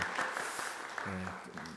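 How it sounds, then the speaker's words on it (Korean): Brief applause from a church congregation during a Sunday service, a soft wash of clapping that tapers off as a voice begins speaking over it. "우리 박수로 격려하겠습니다"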